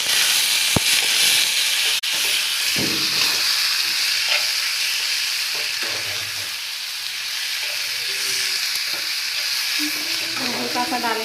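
A frying dish with garam masala hissing steadily in a pan, close and loud, while a spoon stirs with intermittent scrapes and soft knocks, one sharp click early on and no speech.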